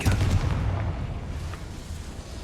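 A Confringo blasting spell is cast in the video game Hogwarts Legacy, landing as a loud, deep explosive boom at the start and then fading into a rumbling tail over a couple of seconds.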